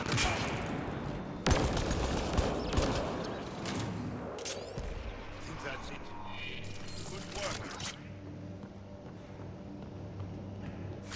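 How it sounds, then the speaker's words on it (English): Rapid gunfire bursts during precision shooting in Mass Effect: Andromeda, fairly faint and mixed with other combat sounds, with cracking shots clustered early and scattered later and a voice talking over the action. "The precision shooting."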